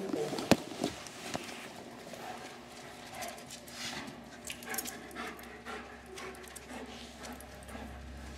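A dog sniffs and pants at a box holding a bone, with quiet snuffling breaths and a soft panting rhythm, close but faint, plus a brief knock near the start.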